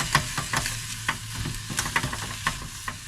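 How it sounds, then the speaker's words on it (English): Onions and chilli con carne ingredients fry in a pan while being stirred, a close steady sizzle punctuated by rhythmic scraping strokes of a utensil. "Just give that a little mix for it."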